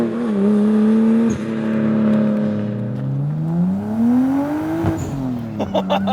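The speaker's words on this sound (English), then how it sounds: "HKS blow-off valve there." A turbocharged Nissan Skyline R34 GT-T with an RB25DET engine and HKS blow-off valve drones up and down through the revs from inside the cabin, with a brief sharp hiss of the valve venting near the end.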